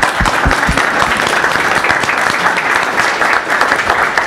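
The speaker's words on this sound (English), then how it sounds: "So a round of applause for Valve too." Audience at a Vulkan and SPIR-V technical session applauding Valve, a steady, close, evenly dense round of clapping throughout with no talk over it.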